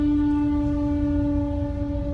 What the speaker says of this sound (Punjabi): ਟ੍ਰੇਨ ਆ ਗਈ